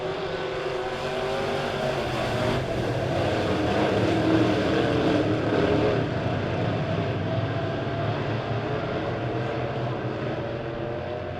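Midwest modified race cars thunder around Springfield Raceway at the start of a heat race, a continuous layered engine roar from the pack that swells and eases, heard at a distance with no voices over it.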